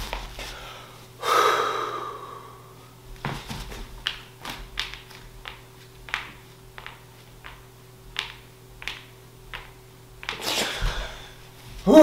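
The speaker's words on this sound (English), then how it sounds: "blow out all my air, lungs are empty, see how quickly I get an urge to breathe" A man gasps loudly for air after emptying his lungs and holding his breath. A strong inhale is followed by a series of short, sharp breaths and snorts, with a final heavy gasp, all close up.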